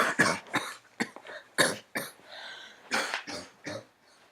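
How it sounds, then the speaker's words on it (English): A woman coughing with her mouth closed, a series of muffled, throaty bursts in uneven clusters, close and moderately loud with short gaps between. "still coughing a few more times with her mouth closed"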